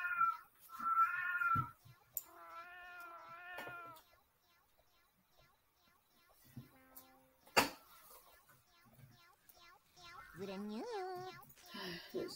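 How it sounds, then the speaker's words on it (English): Cats meowing repeatedly in the video game Raise a Floppa, several drawn-out, fairly loud meows in bursts near the start and again at the end, with quieter game sounds and a sharp thump between. "Bro, I got so much cats in this house"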